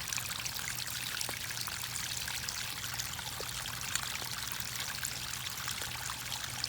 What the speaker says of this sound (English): over here we've got the water feature with the pond